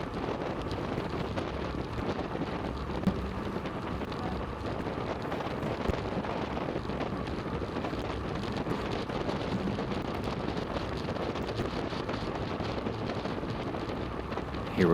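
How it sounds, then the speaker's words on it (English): Steady, loud wind buffeting roars across a microphone for the whole stretch as a road cyclist rides into a headwind during a Category 4-5 race, with no talking. "Here we're coming into that headwind again."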